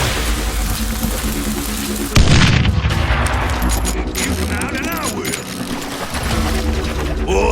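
A sudden loud gunshot blast in the Western shooter Call of Juarez Gunslinger, followed by a lingering rumble and game sounds with a music bed.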